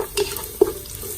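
Onion sautéing with garlic in a pan for beef sinigang gives a soft, steady sizzle with a couple of brief stirring clinks, close by and alone without talk.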